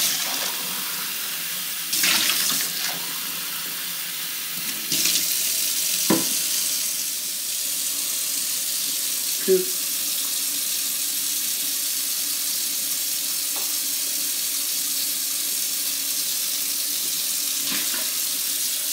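A household tap runs steadily for washing, a close, continuous hiss of flowing water with a few brief knocks and clatters, and a short spoken word partway through.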